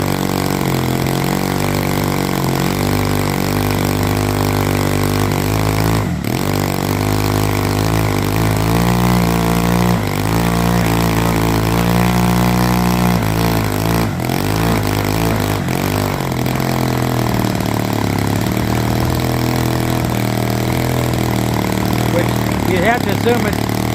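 A Byron Zero model airplane gasoline engine, tied down and running on 100 low-lead avgas, drones loud and steady, its pitch rising and falling as the throttle is opened and eased.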